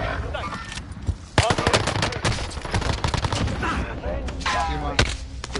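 Rapid bursts of gunfire in an online shooter, loud and dense with overlapping automatic shots and sharp single cracks, continuing throughout with faint voices beneath.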